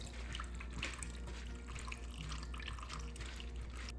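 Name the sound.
rinsing pumpkin seeds in a strainer under running water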